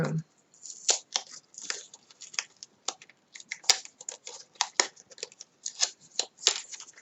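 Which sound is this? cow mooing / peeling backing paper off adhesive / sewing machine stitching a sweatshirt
peeling backing paper off adhesive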